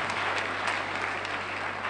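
Audience at an institutional gathering applauding, an even, continuous patter of many hands clapping at moderate loudness over a steady low hum.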